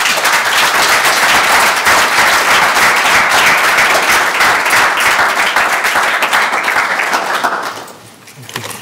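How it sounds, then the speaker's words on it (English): Audience applause at a UNESCO media freedom lecture in a hall, dense sustained clapping from a large crowd that holds steady for about seven seconds, then thins and tapers off at the end. "Another round of applause for Dr. Gavin"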